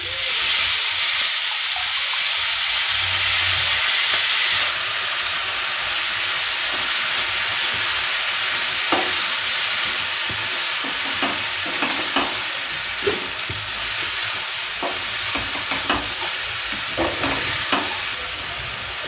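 Chopped cabbage and curry leaves fry in a hot pan, a steady loud sizzle that drops a step partway through, with scattered clinks and stirring scrapes on top.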